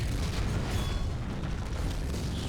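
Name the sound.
explosions in a video game battle arena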